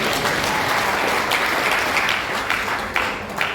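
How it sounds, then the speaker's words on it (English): Dense, sustained applause from a gala dinner and awards banquet audience, many hands clapping steadily at close range and tapering slightly toward the end, with no voices on top. "I would like you to clap."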